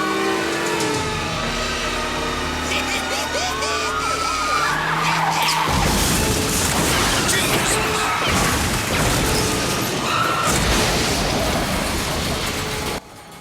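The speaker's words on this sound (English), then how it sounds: "We've got car chases which end in explosions." Action-film car chase from The Silencers (1996): a car engine revs and tires skid, then a dense roaring crash or blast fills the soundtrack loudly for several seconds before cutting off abruptly.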